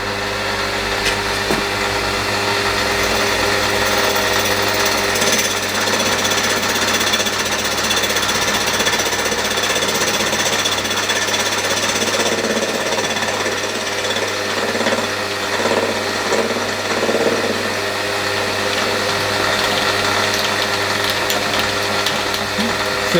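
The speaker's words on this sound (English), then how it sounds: "we've got it in the R40 collet chuck, and we're going to take our first cuts" A Sherline 5000 mill takes its first cuts into a home-cast metal pulley held in an R40 collet chuck, a loud, steady rasping chatter of the cutter with a motor hum beneath, continuing throughout without speech.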